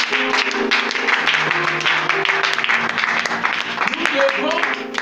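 A church congregation applauds and claps together for several seconds, dense and close, mixed with voices and calls from the crowd.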